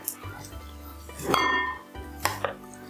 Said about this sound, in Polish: Patelnia jest gorąca. Dajemy ją na deskę.